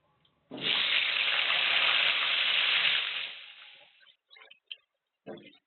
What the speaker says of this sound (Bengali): এই তেলেতেই আলুটা দিয়ে দিচ্ছি।